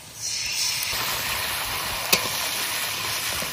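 Onions fry in hot oil with a steady, close sizzle and hiss, broken once by a brief sharp clink of stirring.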